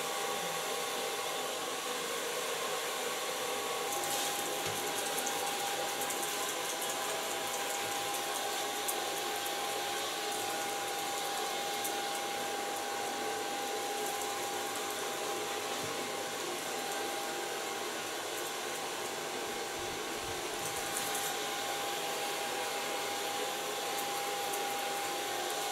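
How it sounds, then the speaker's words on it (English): A hair dryer blows steadily while hair is dried, a constant close whirring hiss with a thin whine that holds for the whole stretch and shifts slightly as the dryer moves. "So far blow drying."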